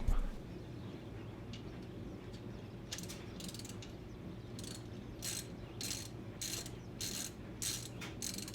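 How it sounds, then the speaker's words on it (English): A ratchet wrench loosens the oil drain plug on a Honda Monkey motorcycle, its pawl clicking in quick, close bursts that grow more regular toward the end over a low steady background hum. "So we're going to go ahead and take that one out and let the oil start draining."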